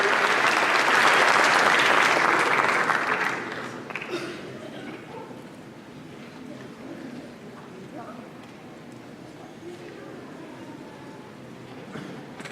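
A large audience at an inauguration ceremony applauds in a dense, loud roar that tapers after a few seconds into softer scattered clapping and murmuring.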